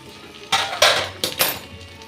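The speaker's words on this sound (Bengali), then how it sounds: "এখন আমি এই মাংসটাকে ঢাকা দিয়ে দিয়ে খুব ভালো করে কষিয়ে নেব।" Mutton is stirred in a pan with a metal utensil, making a few sharp clanks and scrapes over about two seconds, close and with no talk.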